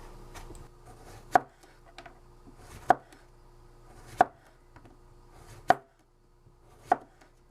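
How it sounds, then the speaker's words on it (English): A knife slices fresh cucumbers, five or six sharp cuts at a slow, uneven pace, each landing clearly against a board over a quiet background. "we're gonna start by slicing some fresh cucumbers"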